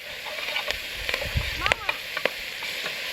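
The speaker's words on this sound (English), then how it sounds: "I'm just going to stir that till the spinach is nice and soft" Spinach frying in a pan over a campfire gives a steady close sizzle, with scattered light scrapes and taps as it is stirred, no voices.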